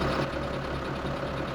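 A tractor engine idles in Farming Simulator 17, a steady, loud low rumble with a faint knocking pulse and no talk.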